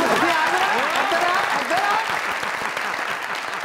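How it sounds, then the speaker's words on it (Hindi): A studio audience at a Pakistani comedy talk show applauds steadily and fairly loudly for nearly four seconds, with a few voices and cheers mixed into the clapping. "तालियां"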